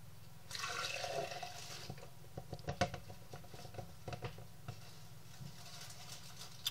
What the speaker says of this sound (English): pour this without getting it everywhere